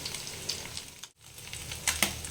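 Small fish frying in a pan, turned to cook on both sides, give a steady close sizzle that cuts out for a moment and then returns with louder crackling spurts near the end.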